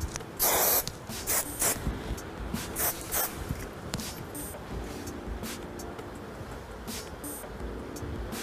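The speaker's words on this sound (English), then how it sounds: "I'm just going to use some hairspray. Lift it up. Spray it." Hairspray sprayed onto hair set with rollers, in several short close hissing bursts separated by quiet pauses.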